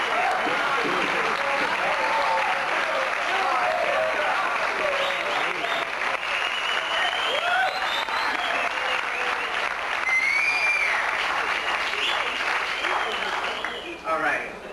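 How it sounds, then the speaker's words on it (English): An audience at a university talent show applauds faculty members as they stand, sustained dense clapping that runs about fifteen seconds and tapers slightly at the end. "Please stand up and let everybody applaud."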